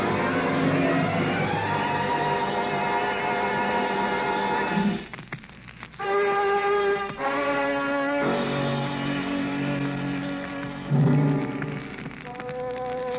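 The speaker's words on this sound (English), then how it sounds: "The car skidded on gravel and slid sideways toward the cliff." A flashy convertible skids sideways on gravel in a radio drama, with harsh squealing bursts over a crunching, rain-like wash. The bursts break off and restart several times, loud and close.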